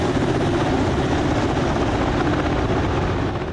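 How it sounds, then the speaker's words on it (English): Rotor of a UH-60L Black Hawk helicopter in the DCS flight simulator, a loud, steady, dense thrumming drone that holds evenly throughout with no voices. "Overall, the Black Hawk feels a proper utility helicopter, solid, stable, and powerful."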